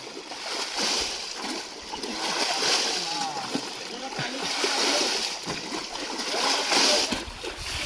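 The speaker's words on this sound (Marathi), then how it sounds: "अंकेश उपसता आहे पण तिकडनं तेवढा पाणी येत आहे." Water splashes and sloshes repeatedly as a small pond is bailed out by hand during traditional summer fishing, close and fairly loud, with people talking over it outdoors.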